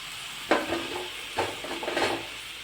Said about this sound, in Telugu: ఈలోపు టమాటాలు వేసేసుకుందాం.